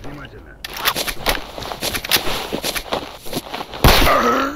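Gunfire from the shooter game S.T.A.L.K.E.R. Anomaly: a few sharp, loud shots burst out amid busy in-game noise and movement, the last one heaviest, while a voice talks over them.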